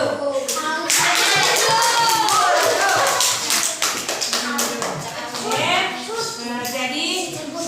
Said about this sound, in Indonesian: Kalau tidak ada, mari kita beri tepuk tangan untuk kelompoknya si Aldo.